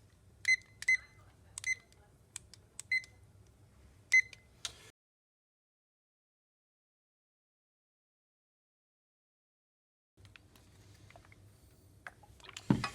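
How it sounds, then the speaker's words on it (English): A kitchen timer being set for one minute gives a run of short, sharp beeps and clicks close by, then a long silence and a faint rumble of room noise with a closing clatter. "I'll put my timer on for a further 1 minute."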